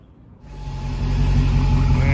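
A Dodge Charger Hellcat starts moving off, its engine rising from quiet into a loud, steady close rumble over a couple of seconds.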